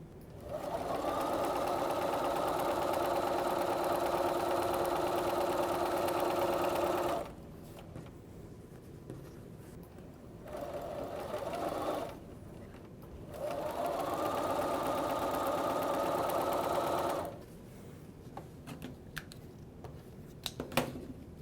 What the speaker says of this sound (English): So we'll sew it together, first sewing the bottom 2 together, then the top 2 together